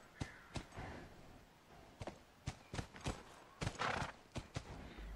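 A horse in The Last of Us video game whinnies loudly while its hooves clip-clop in a steady rhythm, with sharp close thuds and no speech over it.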